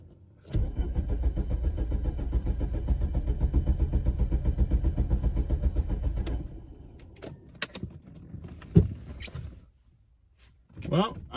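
An Alfa Romeo 164 engine cranks rapidly and rhythmically for several seconds without catching, then stops; clicks, a thump and brief rustles follow in the quiet after.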